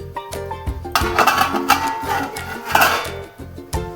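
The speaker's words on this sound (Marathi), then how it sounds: "गॅस मोठा करूया आपण आणि त्यावर ठेवूया झाकण उकळी येण्यासाठी" A lid goes onto a pot of cabbage karpi on the stove with a run of bright metallic clatters and rattles, close and fairly loud, over soft background music.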